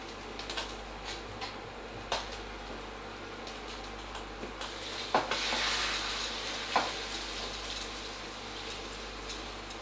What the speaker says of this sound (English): My wine is boiling. I'm going to pour it in and give it a mix